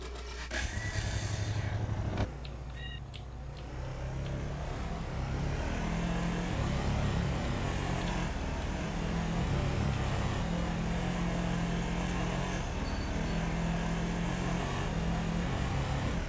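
An ATV engine in the modded survival game DayZ runs steadily throughout, a continuous low motor drone with rumbling, scraping texture after a brief louder burst at the start, no talk over it.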